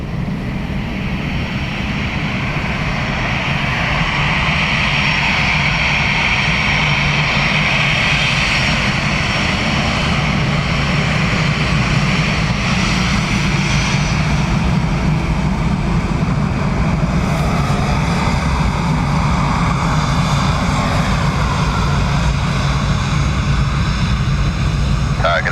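A Ryanair airliner landing on runway 28 left at Dublin Airport produces a loud, sustained jet engine roar that fills the whole stretch with little change in level, heard up close and alone.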